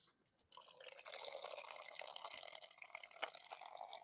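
Ice cold Coca-Cola Zero Sugar poured from a can into a glass, a quiet fizzing, crackling stream that starts abruptly after half a second and hisses on steadily with small spatters and drips.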